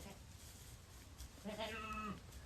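A farm goat, a protective mother during kidding season, lets out one drawn-out bleat over a steady hiss of background noise, with no talking.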